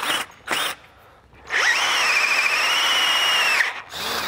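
A power drill bores holes through a steel truck frame: two short bursts, a pause, then one long whining run with a high squeal. It is loud and close, with no talk.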